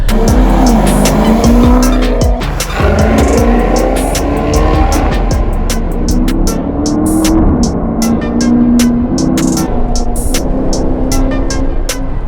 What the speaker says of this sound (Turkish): Bu motor Ferrari 430'da kullanılan motor aslında.